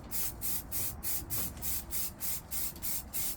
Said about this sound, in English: So just get some primer on the cab